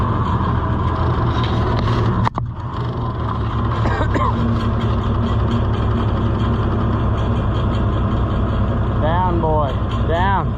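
An 1800A tractor engine idles in a low, steady rumble close by while someone talks over it; a sharp knock sounds briefly partway through.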